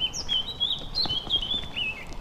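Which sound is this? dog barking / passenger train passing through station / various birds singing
various birds singing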